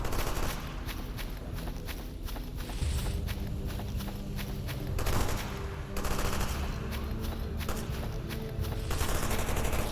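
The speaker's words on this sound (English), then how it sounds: "More shooting." Rapid gunfire from a video game firefight, dense bursts of automatic shooting and scattered shots running continuously at a steady, fairly loud level with no talk over it.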